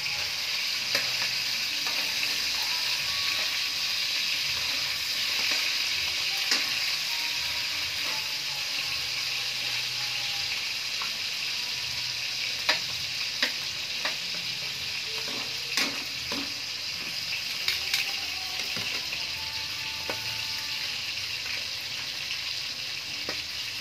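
Chicken sisig sizzles steadily in a hot pan while a utensil stirs it, with occasional scrapes and clicks over a continuous frying hiss.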